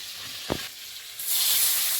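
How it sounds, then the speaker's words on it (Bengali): Loud hissing sizzle as chopped onions drop into hot oil, rising suddenly partway through after a brief clatter. "কড়াইয়ে তেল দিয়েছি গরম হয়ে গেছে এখন পেঁয়াজ কুচি"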